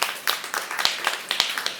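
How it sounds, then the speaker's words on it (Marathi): An audience at an event gives a speaker a round of applause: brisk, dense clapping from many hands, close and steady throughout, with no voices over it. "सरांसाठी जोरदार टाळ्या वाजवा."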